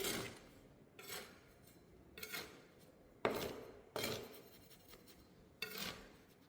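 Cement and sand being stirred together into an even mix, heard as a series of about six rough, gritty scraping strokes at a steady, unhurried rhythm, close and fairly quiet, with no talking.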